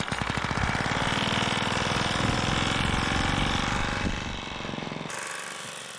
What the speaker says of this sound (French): j'ai couru un peu avec le moteur en marche